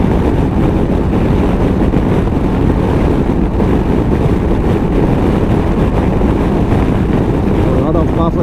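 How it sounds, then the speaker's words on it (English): Strong wind buffets a 2019 Honda CB500X on the road, a dense, constant roaring rush that blankets everything, loud and unbroken throughout. "Yeah, a lot of strong wind today again."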